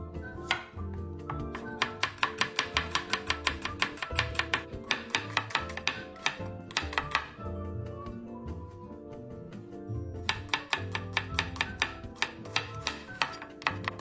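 A knife chops shallots and garlic, about 30 grams each, on a cutting board, with rapid rhythmic bursts of close, sharp taps that pause and resume.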